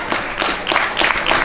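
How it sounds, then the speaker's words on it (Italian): A football crowd at a Bocale versus Gioiese match applauds a substituted player, a brief dense burst of clapping heard fairly close and loud with no talk over it. "Applaudito dal pubblico."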